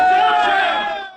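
Doctors and medical staff chant slogans in protest inside a hospital conference room, a short, loud burst of massed voices that fades out.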